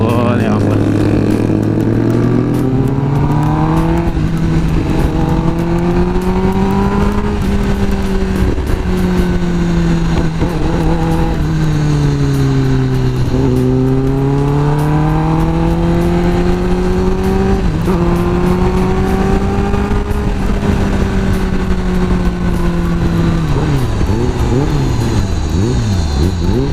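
A modified Kawasaki Ninja ZX10R sport bike revs and pulls through the gears on a test ride. The loud, sustained engine drone rises and falls in pitch, heard close up throughout.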